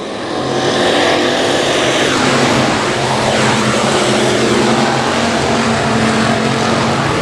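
Race cars roar at Boothill Speedway, a loud dense wall of engine noise from the pack as the race gets underway.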